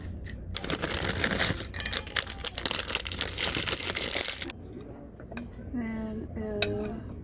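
Lettuce dropped onto a plate of Frito taco salad, a dense crinkly rustle of leaves and soft plate contact that runs for several seconds, then gives way to a quieter stretch with a voice speaking nearby.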